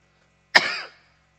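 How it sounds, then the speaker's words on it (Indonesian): One sharp cough, close and loud, in an otherwise quiet moment. "Batuk."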